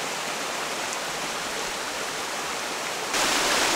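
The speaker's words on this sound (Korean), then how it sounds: "이곳에도 비가 많이 오는 바람에 평소에 보기 힘든 멋진 폭포가 만들어졌습니다." A waterfall pours down stone steps in a wooded valley stream swollen by heavy rain, a constant loud rushing hiss of white water, close by, that swells slightly louder near the end.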